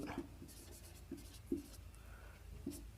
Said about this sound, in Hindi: मैं एक सेंटेंस लिखता हूँ